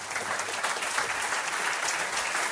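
A studio audience applauds a guest on a Spanish late-night paranormal talk show, a steady, dense wash of clapping that holds at even loudness from start to finish with no talk.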